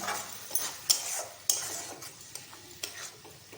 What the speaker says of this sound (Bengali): সোয়া সস দিয়ে এবারে কষে নিলাম